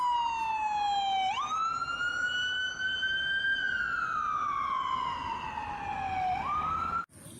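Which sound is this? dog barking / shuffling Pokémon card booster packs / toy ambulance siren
toy ambulance siren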